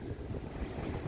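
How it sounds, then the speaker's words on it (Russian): Rough sea waves roar on a beach during a storm, a dense continuous wash of surf mixed with strong wind buffeting the microphone. "Погодка почти не меняется, волны чуть меньше"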